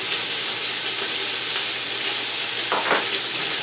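Onions fry and caramelize in a hot pan for a cabbage soup, giving a steady, close sizzle with soft stirring scrapes and no voices.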